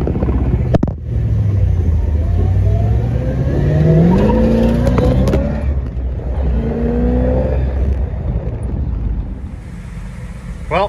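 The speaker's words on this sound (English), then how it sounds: "Beautiful night for a drive with the top down." A convertible car drives at night with the top down, with engine rising and falling through gear changes, road and wind rumble close by, and a few sharp knocks.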